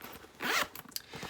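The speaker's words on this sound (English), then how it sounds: "the last thing we need to do is to install the zipper end" A zipper on a handmade sunflower shopping tote slides in one quick, fairly loud zip, followed by a few light clicks and rustles from the fabric and zipper pull.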